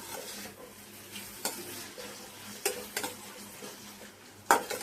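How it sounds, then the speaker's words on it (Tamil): Garlic and onions sautéing in a pan for poondu kuzhambu, a soft steady sizzle with occasional spoon scrapes and clinks against the pan as the mixture is stirred, quiet and close with no voices. "இப்போ நல்லா மிக்ஸ் பண்ணிவிட்டு நல்லா வதக்கி விட்டுட்டு கொஞ்சம் ஃப்ளேம் லோவில் வச்சுக்கோங்க"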